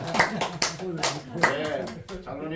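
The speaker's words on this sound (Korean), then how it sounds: "박수." A congregation at a church lecture claps, with a few separate sharp handclaps coming at irregular spacing while a voice speaks over them close by.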